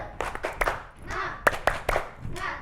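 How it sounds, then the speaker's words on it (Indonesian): A small group of children and a teacher clap out a rhythmic spirit cheer indoors before an Iqra Quran lesson, a patterned run of sharp, close hand claps with a few quick bursts and pauses. "coba kita tepuk semangat dulu"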